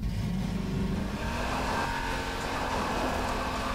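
Car engine in Half-Life 2, a steady droning rumble under acceleration, loud and continuous throughout.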